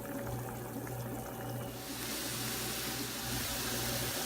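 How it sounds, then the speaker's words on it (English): Ham simmering in Coca-Cola in a frying pan, a steady bubbling, watery sizzle that grows brighter and fuller partway through, heard close with no talking. "fry your ham in that Coca-Cola"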